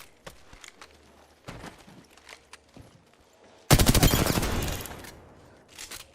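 Burst of rapid automatic gunfire in an Apex Legends-style shooter, a loud dense volley lasting over a second after quieter scattered shots and footsteps, with a brief flurry near the end.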